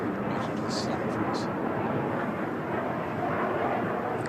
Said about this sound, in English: Certainly demonstrating the flexibility of this aircraft.